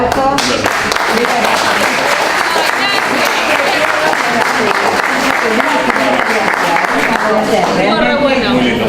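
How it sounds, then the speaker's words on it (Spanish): An audience at a talk applauds in steady, dense clapping that fills the whole stretch, loud and close, with voices mixed into the crowd noise. "Otro aplauso."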